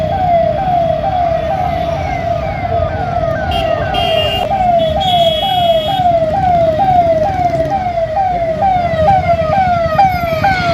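An ambulance siren wails in a rapid, repeating rising sweep, loud and close, caught in a traffic jam with engine rumble and road noise underneath throughout.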